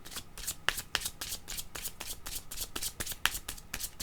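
Yellow tarot cards are shuffled by hand up close, a rapid series of soft riffling flicks and snaps in quick rhythm, fairly quiet, with no one speaking.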